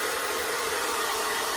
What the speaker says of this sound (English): Keeping the hairdryer quite a way away